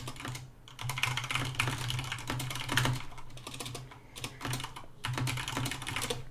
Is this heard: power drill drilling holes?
no